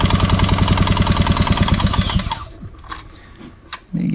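A Pioneer 550 chainsaw engine idles at low RPM, close up, with a steady, rapid pulsing putter for about two seconds before it dies away, leaving faint handling clatter.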